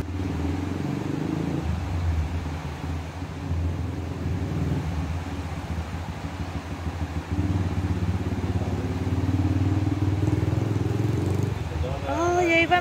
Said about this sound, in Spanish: se escucha la moto porque estamos aquí en la callecita de